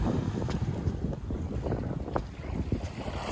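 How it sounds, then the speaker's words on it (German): Steady wind at a Mallorca seaside beach, a continuous broadband rush with buffeting gusts across the microphone, loud and unbroken throughout. "Ein bisschen Wind weht auch, weiß nicht, ob man das hört."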